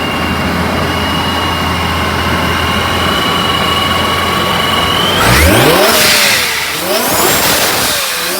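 Supercharged Infiniti G37 sedan with long tube headers and a catback exhaust idles with a steady whine, then revs hard in loud, close blips with the pitch sweeping up and falling back.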